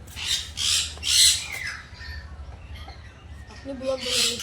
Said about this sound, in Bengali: এখানে নানান রকম পাখিগুলো রয়েছে